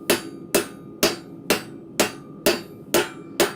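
A blacksmith's hammer strikes hot metal at a forge, letting the weight of the hammer do the work: eight evenly spaced, ringing blows about half a second apart, close and clear with no voices.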